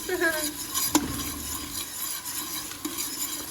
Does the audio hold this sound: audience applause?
no